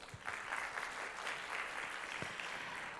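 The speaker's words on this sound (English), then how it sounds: "Ladies and gentlemen, please give another big round of applause." Applause from a large audience at a summit opening ceremony, even and continuous but fairly quiet and distant-sounding, with a few sharper claps standing out.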